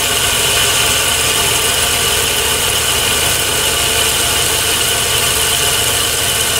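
A metal lathe taking a roughing cut on a workpiece gives a steady, dense mechanical hum and whir, constant and fairly loud throughout, with no speech.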